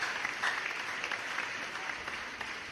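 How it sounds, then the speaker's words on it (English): Steady, dense clapping from a large audience at a live health-organisation event, a continuous even wash of hands at moderate loudness with no voices over it. "Can we make the applause bigger?"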